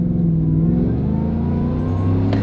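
A Ford F-150 Harley-Davidson edition pickup accelerating uphill, its engine a loud, continuous, rising drone heard from close by throughout, with no talking.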